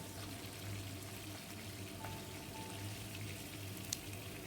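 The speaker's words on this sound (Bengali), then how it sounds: "দুটো পিঠই ভালোভাবে ভাজা হয়ে গেছে, আমি মাছগুলো তুলে দিচ্ছি।" Fish fries in a pan with a steady, even sizzle that holds at a constant level throughout, broken only by a faint tick near the end.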